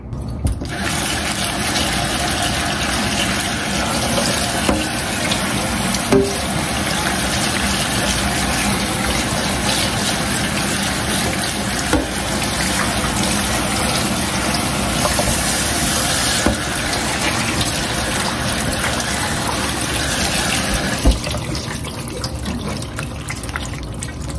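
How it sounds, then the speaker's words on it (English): Cool kitchen sink tap water running steadily over cucumbers being rinsed, a continuous close splashing stream with small shifts in flow. "I'm going to take these cucumbers over to the kitchen sink. I'm gonna rinse them thoroughly with cool water"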